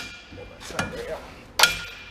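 A sharp metallic hammer blow strikes a tight part on a Peterbilt 352 cabover in a shop, with a duller knock before it and faint background noise.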